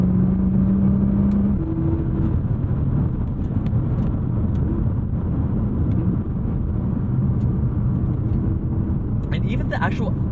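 Engine of a 2012 Nissan R35 GTR hums steadily from inside the cabin with paddle-shifted transmission downshifts, a continuous mid-level drone with brief tonal shifts and a few faint clicks toward the end.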